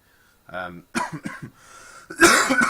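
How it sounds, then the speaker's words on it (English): A person coughs a couple of times, then clears their throat, close up, with brief talking in between. "still got a bit of a cough"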